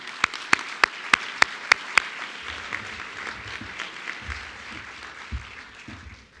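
A few sharp, evenly spaced claps ring out close by, followed by softer scattered audience clapping and low murmur at a senior awards ceremony.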